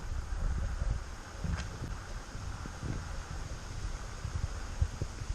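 Gusty wind blows steadily outdoors at Key Largo Botanical State Park, a broad rumbling buffet across the mic with brief rustling swells, loud and continuous for the whole stretch with no voices.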